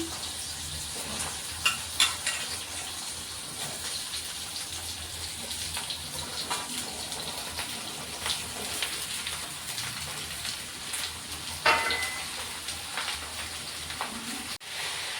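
Ridge gourd and potato fry in hot oil with a chilli and cumin tempering, giving a steady, continuous sizzle and crackle with occasional louder pops and stirring scrapes throughout.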